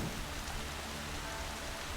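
Rain in the video game Horizon Zero Dawn falls as a faint, even wash of hiss with a soft low rumble beneath, continuous and distant-sounding, with no voices.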